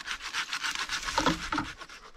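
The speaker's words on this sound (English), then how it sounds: "So I'm gonna cut that whole branch off." A hand saw rasps through a white pine tree branch infected with blister rust, giving rapid close strokes with a creak or snap near the middle, fairly quiet with no voices.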